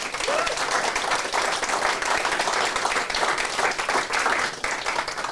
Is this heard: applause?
yes